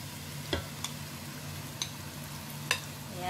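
Squid being added to a pan for adobong pusit gives a faint, steady sizzle broken by a few sharp clicks and taps of a utensil against the pan.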